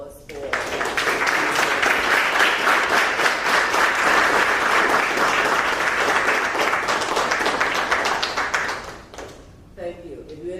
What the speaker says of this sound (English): I would like you to give both him and Helen a round of applause